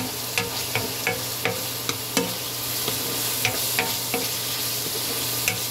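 Pepper-seasoned dish stirred in a hot pan, a steady sizzle of frying under regular spoon scrapes and knocks against the metal, close and moderately loud, no talking.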